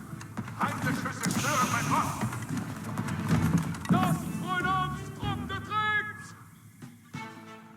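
Clattering hooves of charging French knights in the Age of Empires IV video game, mixed with busy battle effects and unit sounds in a dense, continuous game soundscape.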